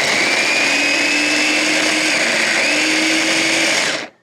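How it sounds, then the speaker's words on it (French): Onions being minced with an electric chopper or blender in a home kitchen while making potato gratin, a steady loud motor whine running unbroken for about four seconds before cutting off abruptly. "Maintenant, faut émincer les oignons."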